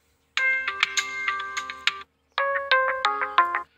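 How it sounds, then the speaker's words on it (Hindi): A Realme C11, C12 or C15 phone plays two short ringtone previews, bright chiming melodic tones with a brief gap between them, loud and clear with no talking. "जो भी रिंगटोन पसंद है वन टैप कर दीजिए"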